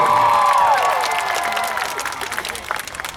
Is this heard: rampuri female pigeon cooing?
no